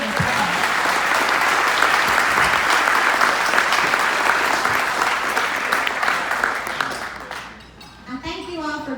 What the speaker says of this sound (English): Let's give the caterers and everyone around the applause.